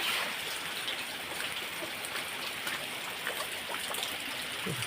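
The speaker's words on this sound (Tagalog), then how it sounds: "grabing uwan na." Heavy nighttime downpour pours steadily and densely, a loud continuous wash of rain hitting surfaces with no letup, flooding water nearby and no voices.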